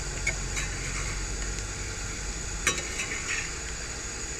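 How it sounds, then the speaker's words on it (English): Potatoes sizzling and frying in a greased skillet, a steady low crackle with a few soft scrapes and one sharp clink of a utensil against the pan. "Starting to chop them some so they'll cook."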